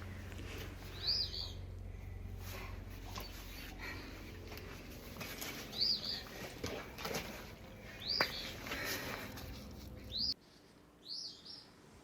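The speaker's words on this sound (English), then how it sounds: "that bird is just so lovely," A bird chirps and sings in short, bright bursts every few seconds over a steady low background hum, fairly close and clear, near water on the Bruce Trail.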